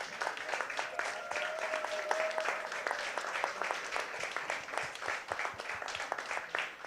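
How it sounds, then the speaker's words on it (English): Sustained applause from participants at a youth hackathon, many hands clapping steadily at moderate distance, with a faint held tone in the background. "Let's give you a huge round of applause for all the work that they have done."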